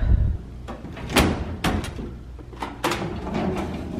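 A classroom drawer slides open with a few sharp knocks and scraping rattles, close and fairly loud, in short bursts separated by quieter gaps, with no talking.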